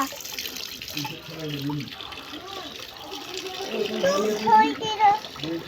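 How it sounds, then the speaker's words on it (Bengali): A child's hands being washed under a running tap with water and soap: steady splashing and trickling water, close by, while an adult and someone talk over it. "দে তোর হাতটা দে, আমি ধুয়ে দিচ্ছি"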